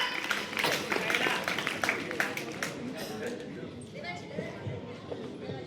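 A crowd applauds at a children's school show, with brisk, dense clapping for the first few seconds that thins out and fades, while voices and background chatter continue beneath.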